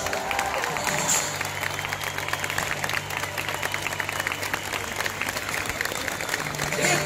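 A concert audience at a 40th-anniversary show in Amparo, São Paulo, applauds a newly introduced performer, with steady crowd clapping and a low sustained tone running beneath the claps.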